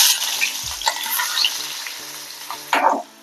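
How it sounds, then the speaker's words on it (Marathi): Onion fries in hot oil with a close sizzle and crackle, over brief clinks and scrapes of stirring in the pan, with no talking. "कांदा परतून घेऊया"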